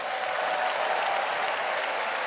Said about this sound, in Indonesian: Tepuk tangan aja.